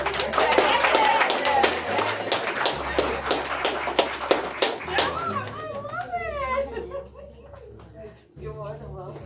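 Audience applause at a storytelling event, brisk clapping that tapers off into scattered claps as voices and a child's chatter take over, with a low hum underneath.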